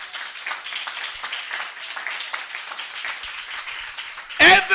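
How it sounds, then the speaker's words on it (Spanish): Church congregation bursting into loud applause near the end, a dense burst of many hands clapping after a stretch of steady crowd murmur. "Dale un aplauso fuerte al Padre, al Hijo y al Espíritu Santo"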